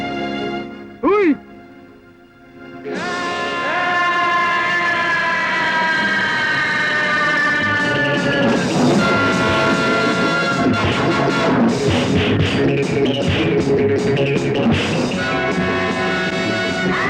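A loud, sustained horn blares over the rumble of a passing train, with steady mechanical noise and a short tone just before it starts.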